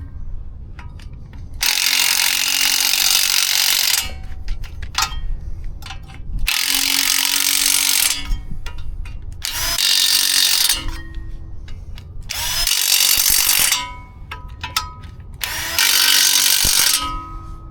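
An impact gun snugs ball joint bolts on a Chevy K5 Blazer, firing in several loud, close bursts of rapid hammering separated by short pauses.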